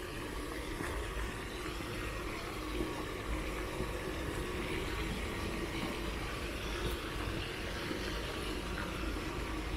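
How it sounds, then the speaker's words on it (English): Steady broadband wash of flowing Thames water beside Wapping's riverside path in London, continuous and fairly close with an even level throughout, no voices over it. "Listen to the water."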